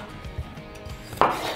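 A knife slicing through cooked purple potatoes on a cutting board, with a few soft taps and one sharper cut near the end, quiet and close.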